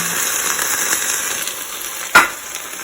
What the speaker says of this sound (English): you are going to toss in your tomato sauce into your pot over here that has your onion and garlic and whatnot